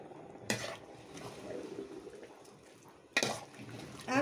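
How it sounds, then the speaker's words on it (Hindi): Water poured slowly into thick, well-cooked dal in a pot for khichda, a faint liquid splash and swirl, with two sharper clattering bursts of the pot or utensil at close range. "अब धीरे धीरे इसमें हम पानी डालेंगे"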